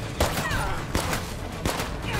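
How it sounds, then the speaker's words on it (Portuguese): Gunfire in the zombie survival game State of Decay 2, with a few sharp shots spaced through a steady, dense game soundscape as a horde approaches; no one speaks during the shots. "Tô com medo de gastar todos os meus tiros e não destruir."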